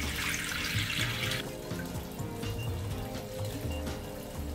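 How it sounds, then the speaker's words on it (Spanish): Warm tap water running into a basin while a face is washed, a continuous close splashing stream with shifting gurgles and splashes and no speech. "primero lava la cara con el agua tibia."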